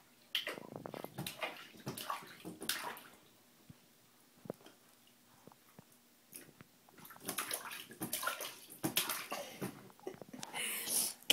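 A small child splashes water in a big bathtub full of bubbles, sending bursts of sloshing and dripping in irregular clusters separated by quiet pauses, close and moderately loud with no talk.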